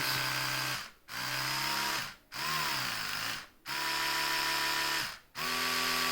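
Oral-B Genius X 20000 electric toothbrush running up close, a steady high buzzing whine that cuts out briefly four times in a regular pulsing pattern before starting again.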